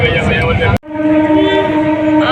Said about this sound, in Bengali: এখন পূর্বস্থলী স্টেশনে ট্রেন ঢুকে পড়েছে